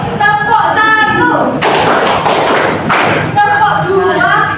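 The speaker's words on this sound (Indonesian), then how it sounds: "Ayo bersama-sama. Tepuk 1," Class of pupils clapping together in a classroom microteaching lesson, a burst of several loud, close group claps in a short sequence between a teacher's spoken cues.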